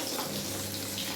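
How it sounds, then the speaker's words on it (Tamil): Tomato juice pouring into spices frying in sesame oil for a fish curry, a brief steady liquid gush with a sizzling hiss, close and alone. "தக்காளி சாறை இதில் ஊற்றிடுவோம்"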